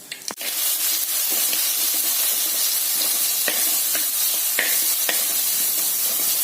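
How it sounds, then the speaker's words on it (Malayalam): Fenugreek and mustard seeds spluttering in hot oil in a pan while cooking a Kerala moru curry: a steady loud sizzle with scattered sharp pops and crackles throughout, no talk. "ഉലുവ, കടുവ പൊട്ടിച്ചു."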